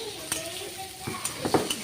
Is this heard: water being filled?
no